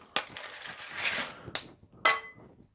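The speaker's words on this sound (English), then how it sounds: "Hear that rustle? Oh, it's the rustle of foil." Crinkly rustling of foil in a few short bursts, close and fairly quiet, with brief pauses between handlings.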